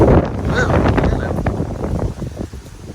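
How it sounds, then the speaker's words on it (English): Hurricane Ian's wind and rain lash an outdoor spot in Tampa, Florida, with steady loud gusty roaring and buffeting across the microphone, dense and continuous throughout. "it's a lot more windy, a lot more rainy"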